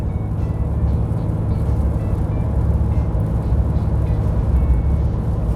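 A RAM 2500 Cummins 6.7L diesel straining in fifth gear while towing uphill, a loud, steady low drone with road noise and no talk.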